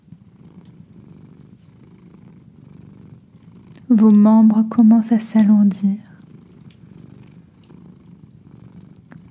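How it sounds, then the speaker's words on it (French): A cat purrs loud and close for about two seconds in a quiet winter chalet, its low rumble rising abruptly over faint background hiss, with a soft-spoken voice talking calmly before and after. "Vous ressentez le ronronnement du chat jusqu'au niveau de votre cœur, de vos cellules."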